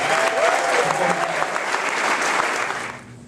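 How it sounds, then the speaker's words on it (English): A crowd applauding after a school news report, loud, dense clapping from many people that holds steady and then fades away in the final moments. "let's give another big round of applause"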